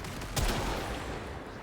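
Gunfire in the video game Warframe, a single heavy shot with a low boom near the start followed by a continuous dense rumble of game noise, no talking.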